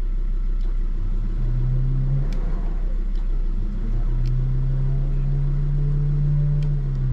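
A car bogged in mud on a track at Mt Sugarloaf creeps forward slowly, its engine holding a steady low drone with a couple of gentle rises in revs, close and continuous.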